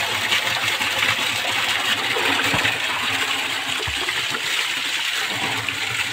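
Water gushes and splashes steadily from a pipe fed by a motor water pump in a village, with a constant motor hum underneath, loud and close throughout.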